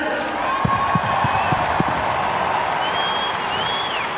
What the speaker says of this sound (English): I'll give a big cheer for the Australians today